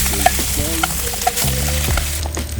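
Chopped cheese beef crusting on a hot griddle gives a steady, close sizzle and frying hiss, with a few light scrapes and stirring clinks over the continuous crackle and no voices.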